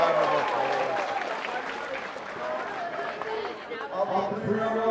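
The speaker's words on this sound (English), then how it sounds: "Ladies and gentlemen, let's have a round of applause for these 2 warriors." Crowd applause and cheering fill a fight venue after a bout between two fighters, steady and loud throughout, with voices and an announcer-style speaker audible over the clapping.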